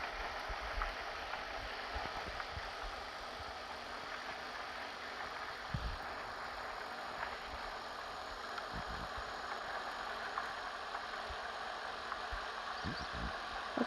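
A car engine hums steadily and faintly under faint background noise, driven fast in the Dusty Trip video game. It stays alone with no voices.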